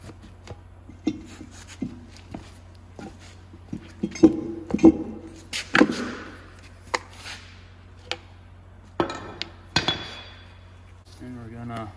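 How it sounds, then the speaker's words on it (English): Sharp metallic knocks and scrapes of a seal puller prying the old seal out of a 5-ton Rockwell axle on an AM General truck, a dozen scattered clanks close by with a brief rattling pull midway. "we're gonna take our seal puller, pull this old seal"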